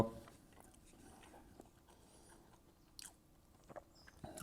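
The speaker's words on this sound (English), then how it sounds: "the bread is nice and crunchy." Quiet, close-up crunching as someone chews the toasted bread of a Japanese egg sandwich, with a few sharper bites standing out near the end.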